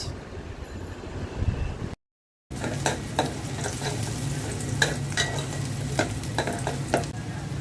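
Cinnamon and two cardamom pods sizzle in hot oil in a pan, a steady close crackle with scraping stirs, broken by a short silent gap near the start.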